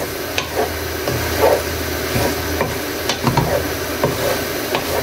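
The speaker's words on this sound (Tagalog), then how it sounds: "Masangkotsahin nyo mabuti bago nyo lagyan ng sabaw, ng tubig." Beef sizzles over high heat in a pan for papaitan while a spatula stirs and scrapes against the metal in irregular taps.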